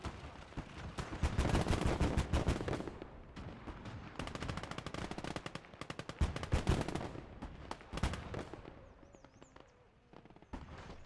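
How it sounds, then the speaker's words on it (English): Rapid bursts of 20 mm autocannon fire raked across infantry positions on a hillside in the WWII game Gates of Hell, loud staccato volleys with short pauses between them and no talk over the shooting. "Take the right control, and we just pepper that infantry with the 20 mil."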